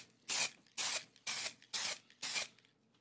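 Spray paint hisses onto an art journal page in five short, evenly spaced bursts, each a close, sharp, breathy rush separated by brief quiet gaps.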